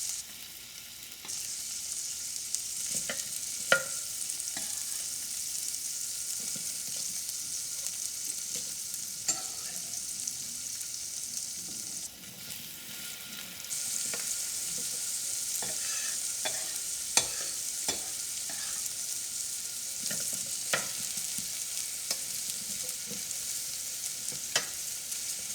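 Spam stir fry with teriyaki thick sauce sizzles steadily on an oiled hot griddle, a continuous bright hiss broken by scattered clinks and scrapes of a spatula stirring, with no talking.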